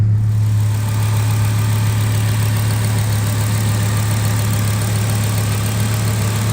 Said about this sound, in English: Nice steady idle on it.